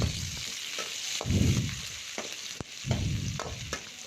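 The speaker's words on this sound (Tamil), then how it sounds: "ஆனியன் நல்லா ப்ரௌனிஷாக ஆகிற வரைக்கும் ஃபுல் ஃப்ளேமில் வச்சு வதக்குங்க." Onions fry over a full flame for egg masala, a constant close sizzle broken by the scrape and clatter of stirring, with no one talking.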